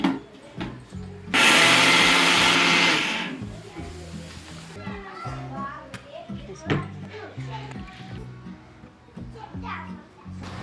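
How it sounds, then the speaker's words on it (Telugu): A kitchen mixer grinder whirs loudly in one short burst of about two seconds, grinding mustard and fenugreek seeds, with people talking before and after it. "ఇవైతే మిక్సీ పట్టుకుందాం"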